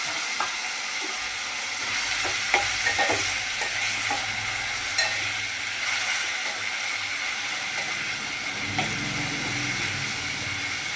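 Bitter gourd pieces fry in hot oil in a pan with a steady, loud, close hiss, broken by occasional clinks and scrapes of stirring.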